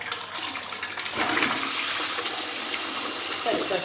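A worn toilet in a rented flat, its push button partly missing, flushes with a loud, close rush of water that swells and holds steady for several seconds, with faint background noise.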